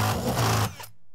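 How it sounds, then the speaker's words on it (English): A power drill with a 3/4 inch bit bores through a corner stud, giving a loud, close, steady whine for under a second before it cuts off into silence. "When in doubt, drill it out. Use a 3/4 inch bit."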